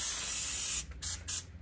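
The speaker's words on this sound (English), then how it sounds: "I'm also gonna spray it with some nonstick cooking spray" Nonstick cooking spray misted onto a parchment-lined baking sheet: a close, steady aerosol hiss lasting under a second, then two quick short bursts.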